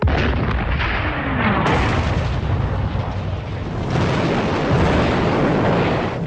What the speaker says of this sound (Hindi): इस पर ब्रिटेन ने गोलाबारी शुरू कर दी।